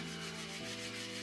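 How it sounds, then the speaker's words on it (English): Steady rubbing sander working over Pontiac Trans Am body panels, a continuous abrasive hiss with a low motor hum that shifts pitch partway through, close and constant with no talking. "So we're having a sanding party tonight."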